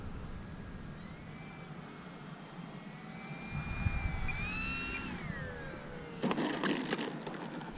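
An airplane engine in a flight simulator video game gives a faint, steady whine with gliding tones that rise and fall as the craft turns. A low hum runs underneath, and brief clattering bursts come near the end.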